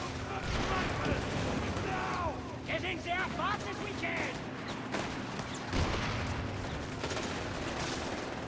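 Mortar and gunfire bursts in the WWII strategy game Company of Heroes 3, scattered booms and crackling volleys under ongoing game effects and talking voices.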